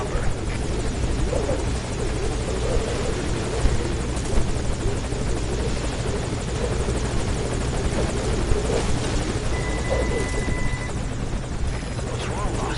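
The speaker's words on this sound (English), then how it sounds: "move away from the chopper" Helicopter from the video game Metal Gear Solid Ground Zeroes, a steady, close rotor drone and engine roar held throughout with no break.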